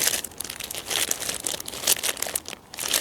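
Plastic bags holding Woodstock hyacinth bulbs are handled and turned over. The plastic crinkles in close, uneven bursts throughout, with short pauses between them.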